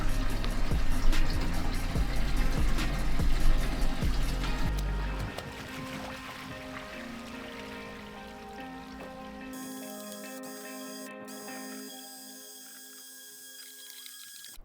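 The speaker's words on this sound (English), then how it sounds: "we're gonna use a pressure washer, and we're just gonna give it a good clean out" A pressure washer blasts water through a Subaru WRX GC8 fuel tank during a clean-out, a loud dense spray that eases after a few seconds into a steadier, quieter hiss with a ringing tone near the end.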